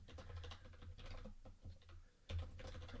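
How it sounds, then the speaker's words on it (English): Steady typing on a computer keyboard, with quick irregular key clicks in bursts and a few short pauses, quiet and close. "trying to think and type at the same time."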